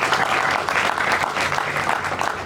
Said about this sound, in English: you all need to give yourself a round of applause for that.